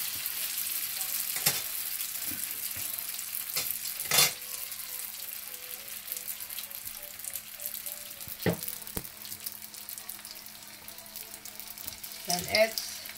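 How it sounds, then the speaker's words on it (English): Caramelizing sugar sizzles and crackles in a pan while making banana turon, a steady frying hiss with a few sharper pops and clinks scattered throughout. "And then I'm gonna do the sugar, caramelized sugar"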